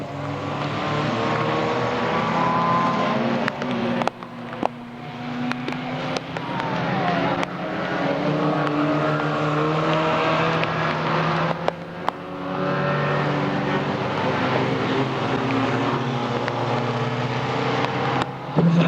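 Racing machines at the Rolling Thunder Expo 2018 pass beneath on the track, a steady loud roar of several engines with rising and falling pitch as they go by, continuous for the whole stretch.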